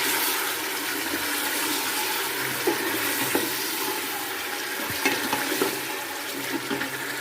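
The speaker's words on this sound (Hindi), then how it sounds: "इसको हमने 2 से 3 मिनट अच्छे से भून लेना है।" Chicken sizzles steadily in a pot with garlic while cooking for chicken nihari, a constant hiss close by with a few faint clinks of stirring and no talk.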